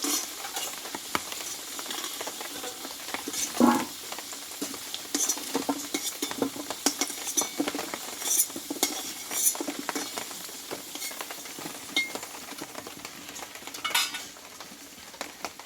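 Mutton pieces fry in mustard oil in a pan, a constant crackling sizzle with scattered clinks and scrapes of a utensil against the pot, close up and moderately loud with no talking.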